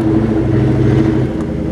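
A Cobra car fitted with a new McLeod RST clutch pulls away on its first drive, a steady close engine rumble and whir that eases slightly near the end, with no talk.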